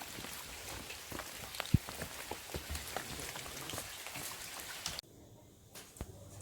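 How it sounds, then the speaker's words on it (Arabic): Heavy rain falls outdoors as a dense continuous hiss with distinct drops striking nearby surfaces, then abruptly becomes muffled and quieter as if heard from indoors. "بون غادي ندخلو دابا الشتا مجهده"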